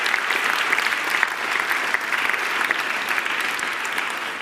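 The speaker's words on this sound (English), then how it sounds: "Yes, a round of applause." Audience at the 10-year anniversary celebration of Impact Hub Zurich breaking into steady, dense applause that fills the room at an even level throughout, with no voices rising above the clapping.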